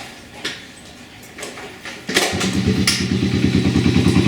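A 1994 Honda Z50R mini bike kicks over on choke and catches after about two seconds, settling into a loud, rapid, steady single-cylinder idle close by, preceded by a few faint clunks.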